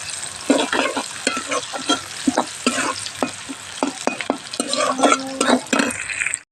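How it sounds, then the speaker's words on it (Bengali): Onions frying in hot oil in a kadai, a close continuous sizzle broken by repeated scraping strokes of a spatula stirring the pan. "পেঁয়াজগুলো ভেজে নিচ্ছি।"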